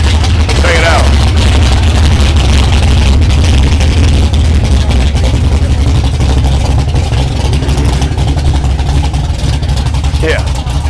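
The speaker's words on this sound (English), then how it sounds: "I'm just gonna let you revel in the sound of this engine." A loud car engine rumbles steadily at a car show, its deep low throb constant and close throughout, with faint crowd noise around it.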